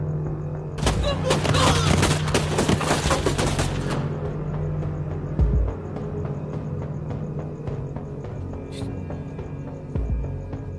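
Sustained gunfire bursts loudly for a few seconds in an Indian action thriller, then gives way to scattered dull thumps and a quieter background.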